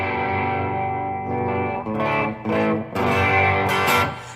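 A replica ESP James Hetfield Elk Skull Explorer electric guitar on its bridge pickup rings out a sustained, distorted chord, then a few choppy strummed chords follow, close and loud with effects-laden tone and no talking.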